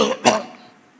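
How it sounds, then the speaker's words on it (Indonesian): A single rough cough or throat-clearing burst, close and fairly loud, cutting through a brief sung or spoken sound that fades into quiet. "Batuk lagi."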